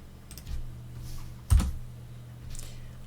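A few scattered keystrokes on a computer keyboard as commands are typed, sparse and soft, with one louder tap standing out against a low steady hum.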